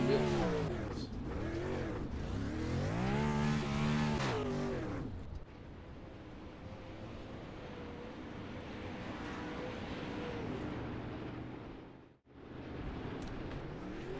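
Open wheel race cars on the dirt track at Charlotte, engines roaring loud and close with rising and falling revs, then a steadier, more distant drone as the cars carry on around the track.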